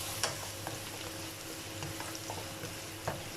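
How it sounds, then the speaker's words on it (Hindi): Chopped onion frying in a pot of oil over a medium flame, a steady quiet sizzle with a few soft stirring clicks, no voices. "इसमें एक बड़ी प्याज मैंने छोटी छोटी सी काट ली है, ये ऐड करूँगी और इसे हम लोग करेंगे थोड़ा सा फ्राई"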